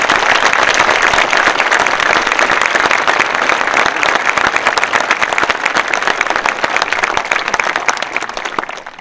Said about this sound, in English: will you please join me in a round of applause for the retirement of Mr.